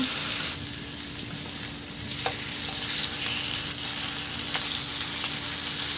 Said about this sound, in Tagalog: At saka iprito na natin yung ating pork chop.